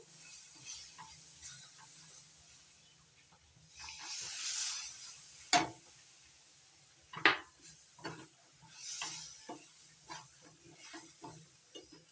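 A spoon stirs ripe mango pulp into semolina halwa in a pan. Faint scraping strokes come at irregular intervals over a low, gentle sizzle, with a few louder swishes.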